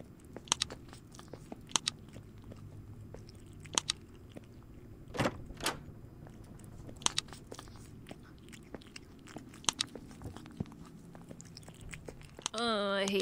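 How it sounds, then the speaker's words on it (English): Wet crunching bites and chewing noises recur in scattered bursts inside a dark Blue's Clues–style horror game, fairly faint and close, with a low ambient drone beneath and a player's voice occasionally heard. "Oh, I hate the sounds of eating."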